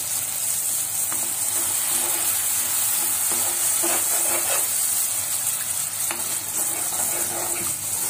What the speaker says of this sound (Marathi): आता आपण यात थोडं पाणी ऍड करू।